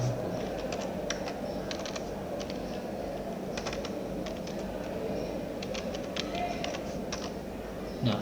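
Fingers type on a computer keyboard in a command prompt, making quick irregular bursts of clicking keystrokes close by over a low background hum, with no clear talking.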